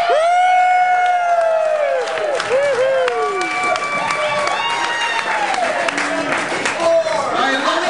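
Wedding guests cheer, whoop and clap in a lively crowd, loud and close throughout, while high sliding whistle-like tones and shouts sweep across the room.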